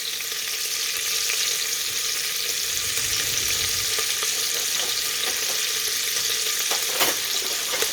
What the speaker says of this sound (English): Okay, so we cook the pancetta.